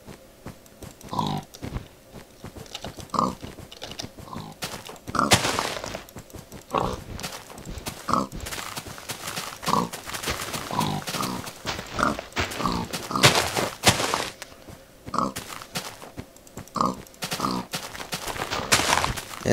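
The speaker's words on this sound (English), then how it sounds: "Yeah, that pig's fast." Minecraft pig grunting in short repeated bursts amid chaotic game noise, fairly loud and close, with brief sharp hits scattered between.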